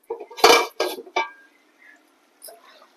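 A metal lid is set onto a pot of mutton curry, giving a few close, sharp clinks and clatters in quick succession, followed by faint softer knocks.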